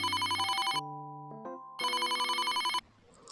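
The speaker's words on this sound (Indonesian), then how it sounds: "HP kamu itu, ada yang nelpon." A phone ringtone sounds in the Sakura School Simulator game: a bright electronic melody, loud and close, with a repeating pattern of high tones, a short break of stepped notes, then the pattern again before it cuts off.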